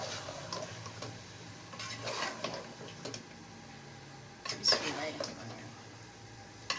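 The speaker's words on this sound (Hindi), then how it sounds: "तकरीबन हाफ कप, थोड़ा सा उससे ज़्यादा दही। अब हम करेंगे इसको मिक्स।" Yogurt is stirred into biryani in a cooking pot, with a spoon scraping and clinking against the metal at close range in scattered strokes and a brief louder clatter near the end.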